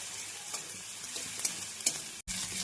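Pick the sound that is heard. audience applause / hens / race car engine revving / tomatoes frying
tomatoes frying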